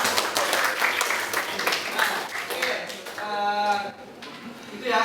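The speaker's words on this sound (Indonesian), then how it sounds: "Tepuk tangan sekali lagi buat semuanya." Students applaud in a vocational high school classroom, a burst of scattered clapping mixed with chatter for about three seconds, then thinning into a quieter tail with a voice and some tonal sound near the end.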